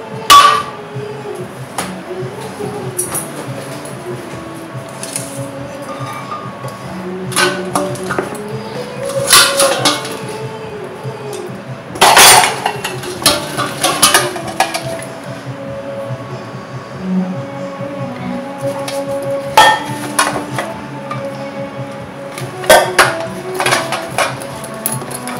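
A home-cooked vegetarian lunch of rice, poriyal, kuzhambu and rasam is packed into containers, with scattered close clinks, knocks and clattering lids spread unevenly throughout, loud at moments.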